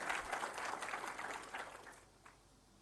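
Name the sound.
audience applause at ceremony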